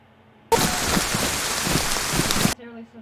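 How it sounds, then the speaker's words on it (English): Steady, dense rain hisses across a video game scene for about two seconds, starting and stopping abruptly, with faint background sound before and after. "Does it ever stop raining?"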